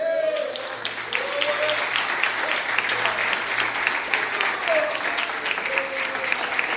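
A church congregation applauds during a Portuguese-language sermon: loud, sustained clapping from a large crowd runs throughout, with voices calling out over it.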